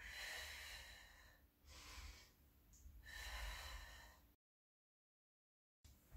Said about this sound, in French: On pense à inspirer en descendant et on expire en remontant.